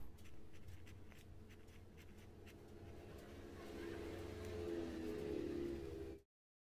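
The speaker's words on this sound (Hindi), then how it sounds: "आपको लेखक के नाम को ब्लैक पेन से कावा के अंदर लिखना है" A black pen writes on an exam answer sheet with a steady, faint scratching. A low background hum swells before the sound cuts off abruptly near the end.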